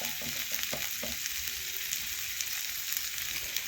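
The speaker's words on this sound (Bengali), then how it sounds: "এ দেখুন কাঁচা লঙ্কা সরষে বাটা দিয়ে একটু ভালোভাবে কষে নিচ্ছি।" Koi fish sautéing with green chilli and mustard paste in a pan, a steady bright sizzle with a few soft stirring knocks early on, close and fairly quiet.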